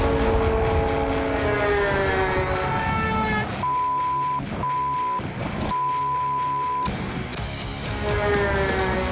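Heavy trucks on the Paso de los Libertadores mountain pass road: a loud, close engine drone with shifting, whining tones that rise and fall as the vehicles pass.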